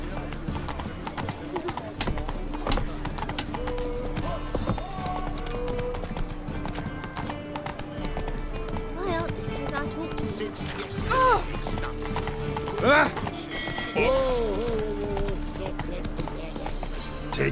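A horse gallops in the video game Witcher 3 Wild Hunt, with rapid rhythmic hoofbeats running continuously and close, alongside game music, a brief whinny and occasional spoken lines.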